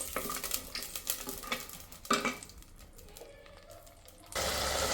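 Green chillies fry in a pan with a soft crackling sizzle while being stirred, and scraping and clattering sounds come from the utensil. Near the end the sizzle swells into a louder, steady hiss.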